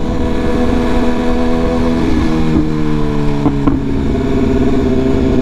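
A BMW S1000RR sport bike rides through Manhattan traffic in New York City, its engine a loud close drone with tones shifting as it revs and changes speed.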